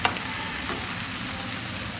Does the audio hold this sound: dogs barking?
no